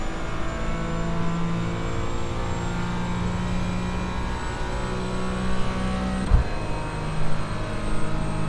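A race car engine in the iRacing sim drones steadily at a high pitch, its tone shifting as the throttle is stabbed and eased. The drone is continuous and close, with no voices over it.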